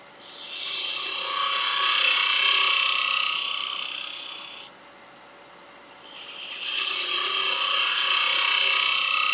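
Lathe tool plunging and pivoting into spinning Irish walnut while hollowing egg cups in a platter, a loud steady bright scraping hiss that drops away for about two seconds midway, then resumes.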